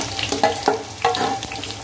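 Finely chopped onions dropped into hot oil with crackling fenugreek seeds for an aloo methi dish, giving a close, lively sizzle broken by several sharp pops and spatters.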